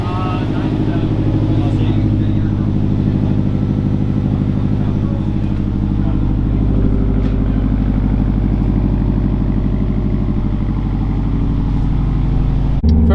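A 2004 Subaru STI with newly fitted BC coilovers drives along with a loud, steady, throbbing engine drone and road rumble that stays constant throughout.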